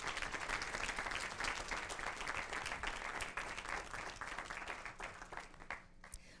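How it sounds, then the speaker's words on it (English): Steady round of clapping from an audience at a school board meeting honoring students of the month, dense and sustained throughout, thinning slightly toward the end. "Let's give them a round of applause."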